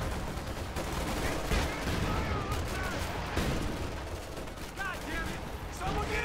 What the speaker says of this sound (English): Lots of that machine gun fire here.